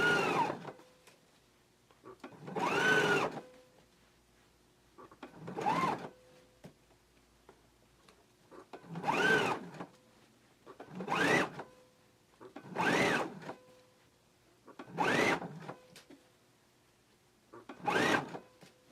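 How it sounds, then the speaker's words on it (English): A home sewing machine stitches a shirt neckband in short bursts, about eight runs of close, buzzing stitching with brief quiet pauses between them. "we can go ahead and stitch it at 3/8 of an inch seam allowance"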